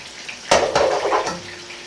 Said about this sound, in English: Just let it stir fry.